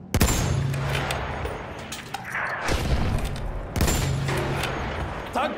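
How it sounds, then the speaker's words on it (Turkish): Battlefield 1 gunfire from a Mark V landship tank-hunter battle, with bursts of shots and heavy booms hitting in loud clusters, and a low engine rumble running beneath. "Düşman atışı tespit edildi."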